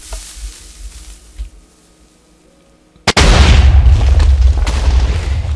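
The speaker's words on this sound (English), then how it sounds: "this first design is a vertical TNT cannon. It shoots up and it's extremely powerful" In Minecraft, a vertical TNT cannon fires: a sudden loud blast erupts, followed by a sustained roaring rumble, after a few seconds of quiet background sound.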